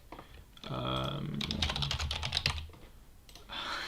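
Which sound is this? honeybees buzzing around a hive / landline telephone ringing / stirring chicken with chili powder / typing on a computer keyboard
typing on a computer keyboard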